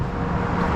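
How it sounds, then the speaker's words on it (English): A car comes up from behind on a quiet back country road lined with tall, mature trees, heard as a low, steady rumble of tires and engine, still at some distance, with no voices. "I think I hear a car coming behind me"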